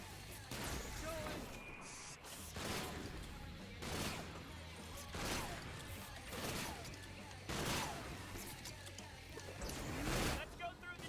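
Enemies fire guns at the player in the video game Sunset Overdrive, with repeated loud bursts and crashes of gunfire recurring every second or two over a constant game soundscape.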